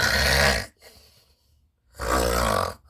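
A voice imitating loud snoring while reading the Red Riding Hood story, with two heavy rasping snore sounds, each roughly half a second to a second long, separated by a quiet pause.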